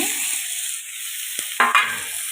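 Garlic and tomatoes sauté in a pan with a steady close sizzle, broken by a couple of sharp bursts as ingredients hit the hot oil.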